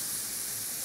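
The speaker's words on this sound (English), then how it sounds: "Hear that sizzle?" A steady, bright sizzle of roux in a gumbo pot, a continuous hiss with no pauses.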